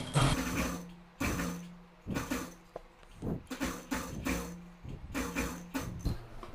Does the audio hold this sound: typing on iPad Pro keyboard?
no